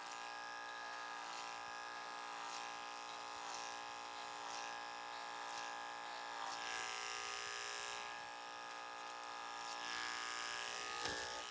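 An electric hair clipper fitted with a blade-lengthening attachment buzzes steadily up close while cutting a short haircut, a continuous high hum with faint rhythmic ticks as it passes through hair.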